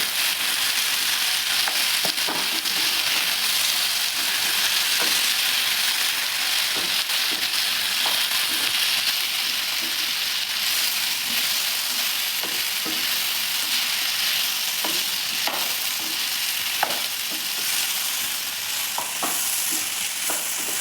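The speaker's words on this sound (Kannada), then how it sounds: "ಹೈ ಫ್ಲೇಮಲ್ಲಿ ಇಟ್ಕೊಂಡು ಉರಿನ ನಾವು ಮಶ್ರೂಮ್ನ ಆ್ಯಡ್ ಮಾಡ್ಕೊಳ್ಳೋಣ ನೋಡಿ ಇವಾಗ ನೀಟಾಗೆಲ್ಲ ಮಿಕ್ಸ್ ಮಾಡ್ಕೊಳ್ಳಿ" Mushrooms for restaurant-style mushroom manchurian fry on a high flame while being stirred, giving a loud, dense, continuous sizzle with repeated scraping and clacking strokes from the stirring.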